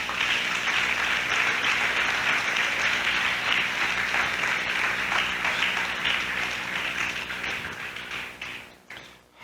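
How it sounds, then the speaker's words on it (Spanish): Congregation applauding in praise at a 1999 church sermon, sustained dense clapping from a large crowd that fades out near the end. "Dale otro aplauso a Jesucristo"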